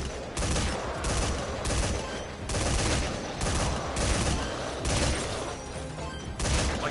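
Rapid gunfire fills a Metal Gear Survive gameplay session, a dense near-continuous volley of loud shots pulsing in repeated bursts with no pauses of silence.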